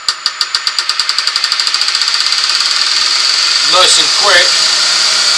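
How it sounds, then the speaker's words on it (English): A wood lathe spins up for turning a ring box, starting with rapid evenly spaced ticks that quicken into a steady continuous whir, close and loud, while a person speaks briefly over it. "I'm going to get the lathe spinning"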